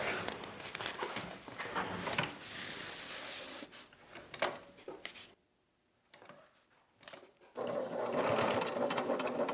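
A sewing machine stitches an interior pocket into a large beauty bag, running in close, busy bursts that stop for a quiet pause before the motor starts again.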